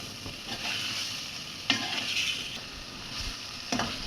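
Fish is added to a hot pan and fries with a steady sizzle, stirred now and then so that brief scraping knocks rise above the constant crackle.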